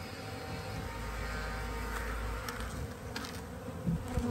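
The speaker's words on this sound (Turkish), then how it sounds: "arılar bu kovanlardan çıkarak geriye bu kovana geri dönecekler" Honeybees swarm and buzz around opened hives during a spring hive split using a mated queen, a dense, steady drone of many wings close by with no talk.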